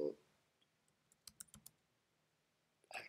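A computer mouse gives a quick cluster of sharp, faint clicks in the middle of an otherwise quiet stretch, bracketed by brief bits of nearby sound at the start and end.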